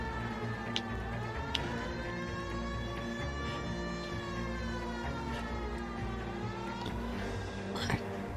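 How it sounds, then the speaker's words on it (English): A police car siren in the video game L.A. Noire wails in long rising and falling sweeps, steady and prominent over a rumbling engine drone, with a few sharp clicks. "turn off the siren and sneak up on the guy's house."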